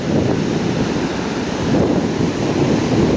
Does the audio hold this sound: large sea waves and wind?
yes